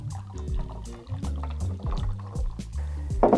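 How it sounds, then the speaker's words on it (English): Ginger beer poured into an apple cider mule cocktail, close gurgling and fizzing liquid in uneven glugs, with a brighter splash near the end and no talk. "Now we'll finish this off with your ginger beer of choice."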